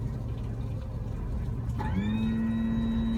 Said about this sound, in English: if you can hear that in the background, now the jacks will auto level.